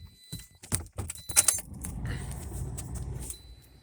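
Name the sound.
Toyota car being started with smart remote key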